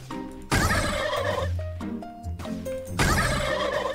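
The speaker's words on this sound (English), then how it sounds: "imagine like dying to the chicken sound" Loud comic chicken-like gobbling squawks in Roblox Blade Ball, two long warbling bursts with shorter clucks between them, with game effects in the background.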